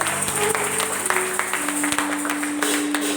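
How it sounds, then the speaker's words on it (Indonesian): A church congregation claps hands together in a dense, steady patter, with sustained musical tones and some voices underneath. "Kita mau tepuk tangan buat Tuhan"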